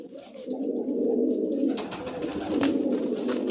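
Pigeons coo in low, throaty, continuous murmurs close by, with some rustling and flapping sounds joining partway through.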